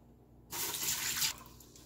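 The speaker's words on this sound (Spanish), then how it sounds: "lo primero que voy a hacer es poner en una olla agua" Tap water running into a cooking pot for Ecuadorian fish encebollado, starting abruptly after a brief quiet, a close, bright splashing stream for under a second before cutting back to low background.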